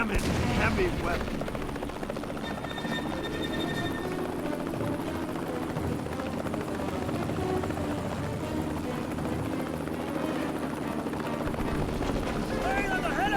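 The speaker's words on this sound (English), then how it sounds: "Firing on the helicopter!" Gunfire aimed at a helicopter in the Mercenaries 2: World in Flames video game, a dense, continuous battle din with rotor drone and rattling shots that blend into one another, steady and loud throughout.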